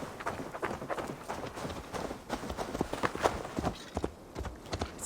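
Horse hooves clip-clopping in Assassin's Creed Valhalla, a steady, moderately quiet trot of repeated hoofbeats in a game world, with no one speaking.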